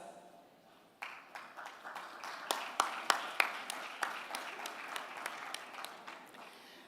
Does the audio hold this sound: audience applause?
yes